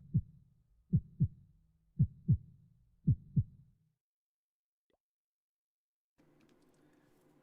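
A video game heartbeat cue during an attack: three paired thumps, low and soft, in a slow steady rhythm, followed by silence and then a faint hum near the end.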